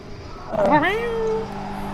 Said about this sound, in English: So your cat is famous for its meowing.